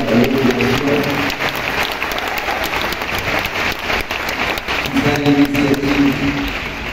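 Loud, sustained applause from a large audience honoring illustrators at a concert event, thick and continuous throughout, with faint voices rising beneath it near the start and again toward the end.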